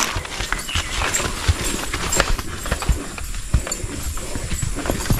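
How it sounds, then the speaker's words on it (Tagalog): A horse carried by a local guide clip-clops along a mountain trail on Mt Irid, with close, uneven hoof strikes over continuous outdoor noise. "inabutan na po kami ng lokal dito na may dalang kabayo"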